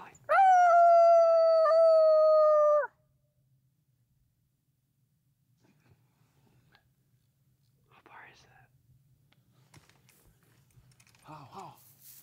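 An electronic predator call during a South Dakota coyote hunt blares a loud, sustained howl for about three seconds, then cuts off into near silence with faint rustling and low whispers later.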